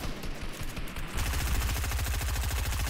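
Rapid automatic gunfire in Fortnite, a dense rattling burst that grows louder and more continuous partway through and stays close and loud to the end, with no talking.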